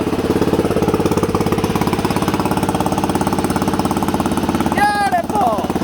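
An old 1970s lawn mower engine runs with the choke off, a loud, steady rapid chugging close by, with a person speaking briefly near the end.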